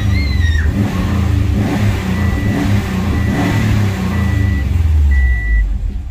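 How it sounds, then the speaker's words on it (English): A stock Subaru WRX/STI engine with a cat-back exhaust revs up and holds a steady, loud, close rumble, while a repeating electronic beep chimes over it. "you can see that stock sound of the engine, cob, cat-back exhaust on that thing"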